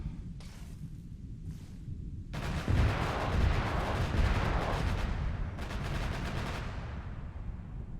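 Enemy gunfire in a military video game, bursts of distant shooting that start and stop, with one sustained volley in the middle and another later, moderately loud under a low rumbling background.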